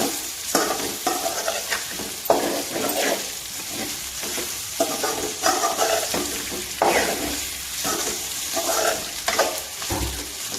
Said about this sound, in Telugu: ఒక రెండు నిమిషాల పాటు ముక్కల్ని ఫ్రై చేసుకోవాలండి